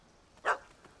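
A single sharp bark from a puppy in The Witcher 3: Hearts of Stone, clear and fairly close over quiet ambience.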